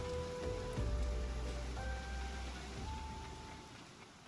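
Rain falls steadily in Final Fantasy XIV, a dense even hiss of drops on surfaces, moderately quiet, with faint tonal game sounds drifting underneath and no talking.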